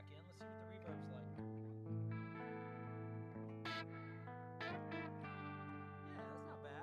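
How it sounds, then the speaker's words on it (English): Sustained electric guitar chords ringing with a reverb tail, notes blending together in a continuous, washy wash of sound. "Let's see what the reverb's like"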